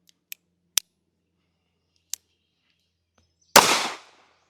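A .22 magnum rimfire gun that has been misfiring finally goes off: several small dry clicks first, then one sharp loud report with a brief decaying tail, close by, with no voices.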